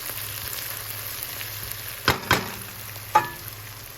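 Onion frying in ghee sizzles softly in a pan, a low steady hiss broken by a few sharp scrapes and knocks of a stirring utensil.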